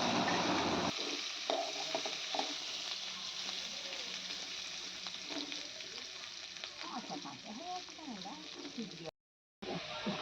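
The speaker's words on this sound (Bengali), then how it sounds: "মা এখন আলু ভাজছে" Potatoes fry in a pan with a loud, steady sizzle. Occasional stirring clatters through it, and the sound cuts out briefly near the end.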